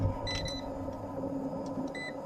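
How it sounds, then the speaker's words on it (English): Handheld non-contact AC voltage detector giving a few short, high-pitched beeps while testing wiring during a Tesla wall charger installation, heard over a steady electrical hum. "this little guy will beep when it detects AC power"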